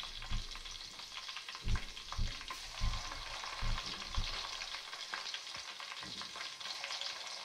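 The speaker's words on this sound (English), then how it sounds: "Then I added my onion. I let it to fry some time." Onion frying in red palm oil: a quiet, steady sizzle with soft low thumps and scrapes from stirring at irregular intervals, close but faint.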